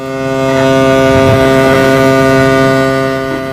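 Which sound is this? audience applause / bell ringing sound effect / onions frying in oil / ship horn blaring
ship horn blaring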